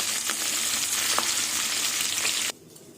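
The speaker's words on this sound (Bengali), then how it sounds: "এবার মাছগুলো তুলে নেব এইভাবে মাছগুলো ভেজে নেব" Hilsa fish fry in mustard oil with a close, constant hissing sizzle and a few soft pops, which cuts off abruptly after about two and a half seconds, leaving near quiet.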